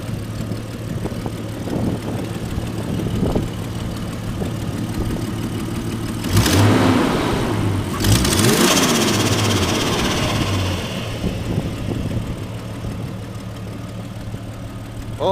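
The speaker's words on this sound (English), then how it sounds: "All the turbo noises you could ask for." A widebody Jeep Cherokee's inline-six engine idles with a steady low rumble, then is revved twice in quick succession, roaring up and dropping back before settling to idle.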